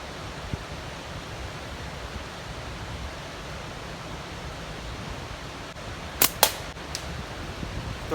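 Shot from a cheap $14 knockoff Chinese slingshot outdoors, a brief sharp snap with a quick second crack and faint rattle, heard against steady wind-like background noise.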